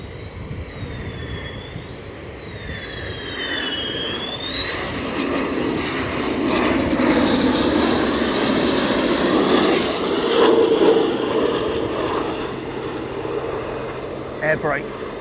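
An F-15 Strike Eagle jet at RAF Lakenheath roars past with a rising, whining engine note that swells to a loud sustained rush and then recedes, while people talk over it.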